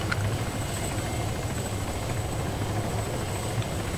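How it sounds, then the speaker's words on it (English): A helicopter flies nearby in the ArmA video game, its rotor giving a steady, loud chopping drone throughout. "there's a chopper behind us"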